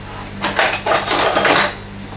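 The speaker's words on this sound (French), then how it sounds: "Donc là, je remue les œufs et le sucre." A utensil stirs eggs and sugar in a bowl, making a few quick, close scraping and clinking strokes against the bowl's side.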